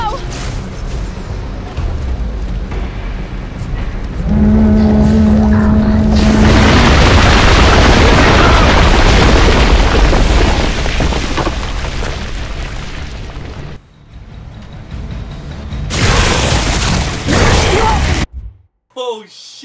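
Loud, booming explosions from tripwire crossbow bolts in the video game Gears of War: Judgment, with heavy blasts and dense rumbling debris that fade briefly before another burst, and shouting voices mixed in.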